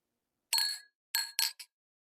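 Coffee cups clink together for a toast: a single clear ring, then a quick cluster of three lighter clinks, close and distinct against silence.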